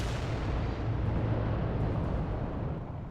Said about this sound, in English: I could blow off his other volcano cannon,